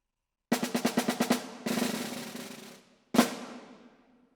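Snare drum played alone in a concert etude excerpt: a quick run of separate strokes, then a sustained roll, and a final sharp buzz stroke that rings off. Close and moderately loud.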